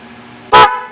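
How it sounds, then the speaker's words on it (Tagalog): One short, loud car horn blast sounds close up against a faint engine hum, then fades away. "ang tunog niyan loud horn lang"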